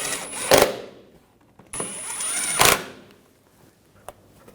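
Two bursts from a power tool snug down bolts on a 2011-2018 Volkswagen TDI Jetta Wagon CV axle, each a whirring buzz that ends in a sharp rattling hammer, followed by a light metallic clink near the end.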